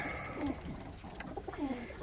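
Roller pigeons cooing inside a kit loft, two soft low coos spaced apart amid faint shuffling and rustling of birds moving around, heard close up.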